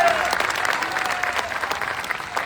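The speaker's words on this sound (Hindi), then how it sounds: "तालियां बजाकर इनका स्वागत करें।" Crowd at a public political gathering clapping to welcome a speaker, dense sustained applause with a faint voice underneath, close and moderately loud.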